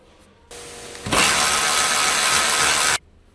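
A power tool whirs on a Honda Civic radiator mounting bolt, a steady spin that starts softly, jumps to a loud sustained whine for about two seconds, then cuts off abruptly.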